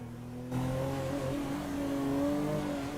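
A car engine revs up and accelerates, a steady mid-pitched drone that climbs and holds loud and near throughout.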